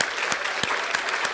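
A spelling bee audience applauds steadily at a Rockcastle County Schools district event, a dense wash of many hands with a few sharper claps standing out, loud and continuous with no talking.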